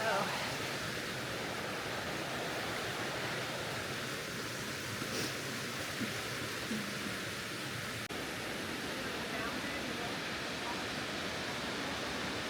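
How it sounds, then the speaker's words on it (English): Water runs down a rock face along a hiking trail at Stone Mountain State Park, a steady broadband rush heard at moderate distance for the whole stretch, with no talk over it. "Pretty cool to see the water coming down the rock."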